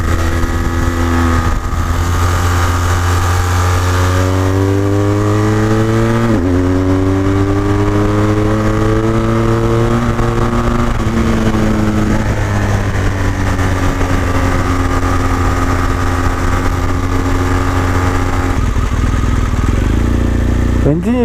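Engine of a BMW R1200GS Adventure motorcycle while riding, a loud continuous drone with rising and falling pitch as it accelerates and shifts gears, steady and close throughout.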